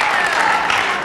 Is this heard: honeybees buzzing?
no